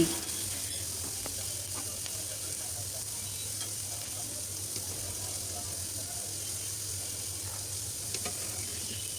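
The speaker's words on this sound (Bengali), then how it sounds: "এখন পেঁয়াজগুলো আমি একটু ভালোভাবে ভেজে নিচ্ছি" Onions frying in a pan for a chickpea salad give off a soft, steady sizzle that runs evenly throughout, fairly quiet and close.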